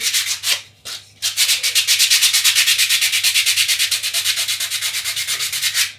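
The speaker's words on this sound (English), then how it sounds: "We'll sand the whole thing. Sand the gloss off it." Sandpaper rubs the gloss off a surfboard being prepped for glassing on fins, in close, steady back-and-forth strokes that pause briefly near the start and then run on in an even rhythm.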